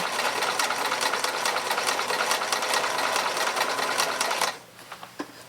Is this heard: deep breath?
no